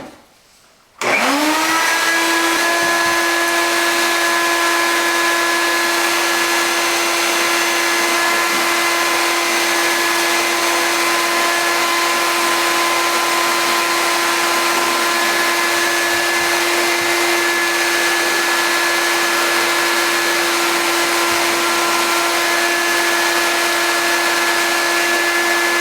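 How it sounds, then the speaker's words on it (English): After a brief quiet moment a vacuum cleaner starts up loud and close, a steady whining roar running on unbroken as it cleans a scraped subfloor prepared for ceramic tile. "now it's time to vacuum it"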